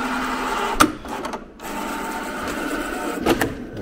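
A plotter cuts a strip of Suntek paint protection film with a steady mechanical whirring and buzzing, broken by a few sharp clicks, close and moderately loud.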